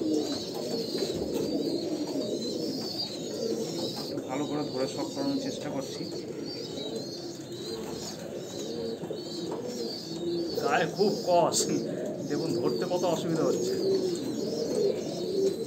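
An 8–9-year-old Andhra pure-bloodline Kalanka pigeon, held in the hand, coos in low, repeated throaty rolls close by, while someone talks over it throughout.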